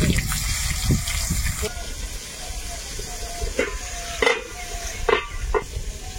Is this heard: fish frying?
yes